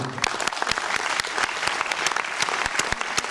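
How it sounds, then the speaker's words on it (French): An audience at the opening ceremony of the Cinéland international short film festival in Brittany breaks into loud, dense applause, many hands clapping together with sharp nearby claps standing out throughout. "merci de les applaudir"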